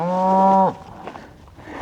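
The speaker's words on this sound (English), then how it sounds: "Plenty of cattle." Cattle on a high desert range give one loud, close, drawn-out moo that breaks off abruptly, followed by quieter rustling and faint ambient noise with no talk.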